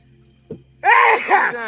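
A short, breathy burst like a sneeze, quickly followed by a voice speaking close up.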